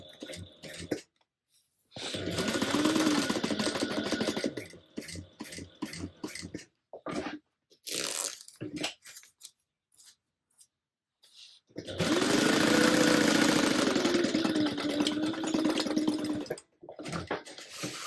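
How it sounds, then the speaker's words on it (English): Sewing machine stitching a tote bag seam an eighth of an inch from the edge, loud rapid mechanical whirring in two long runs separated by pauses, with bits of talk and handling noise between. "we're gonna stitch this side down 1/8 of an inch as well"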